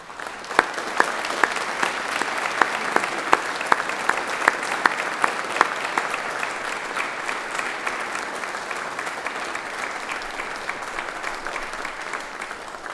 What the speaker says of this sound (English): we should give them a round of applause to say thank you.